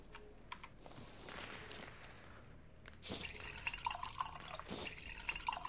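Water trickles and drips into a jug at a radioactive pool in the STALKER video game, a soft, close filling sound that grows busier partway through, with no talk.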